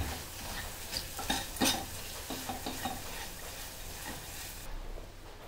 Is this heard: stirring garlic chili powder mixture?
yes